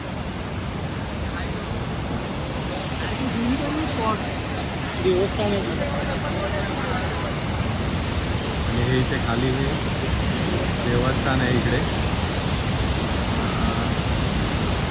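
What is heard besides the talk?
rushing water overflowing at a picnic spot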